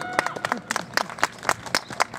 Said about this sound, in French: vous pouvez peut-être l'applaudir avant parce que vous ne l'avez pas fait